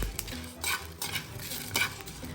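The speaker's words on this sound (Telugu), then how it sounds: "అన్నీ కూడా మీడియం ఫ్లేమ్లో పెట్టుకొని డ్రై రోస్ట్ చేసుకోవాలి." Mandi masala spices dry roasting in a pan over a medium flame, stirred with soft rhythmic scraping and a light sizzle, close and steady with no talking.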